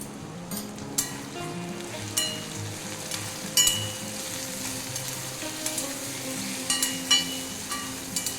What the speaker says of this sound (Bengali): এটা মিডিয়াম টু স্লো গ্যাসে এটা আস্তে আস্তে ভেজে নেব।